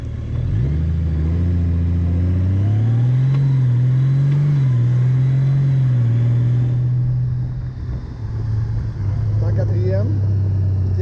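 Motorcycle with automatic gearbox downshifting by itself, the near engine note dipping and rising through successive gear steps before settling into a steady lower drone.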